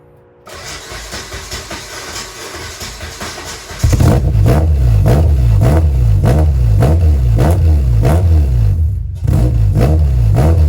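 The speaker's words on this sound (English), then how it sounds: "I want to start this car" A K-swapped Honda Accord CD5 engine cranks and fires up, then revs loudly in several rising and falling surges before briefly dropping and revving again, close by.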